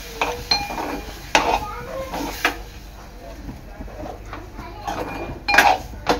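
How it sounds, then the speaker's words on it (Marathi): Ground masala paste being stirred in a metal pan for a stuffed crab dish, with a spoon scraping and clinking against the pan in irregular bursts and a voice talking faintly beneath. "वाटण मिक्स करायचं आहे"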